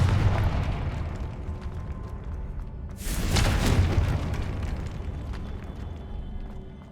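A Confringo fire spell in the video game Hogwarts Legacy, a single loud whooshing blast with a rumbling roar that swells and slowly fades over a steady low background.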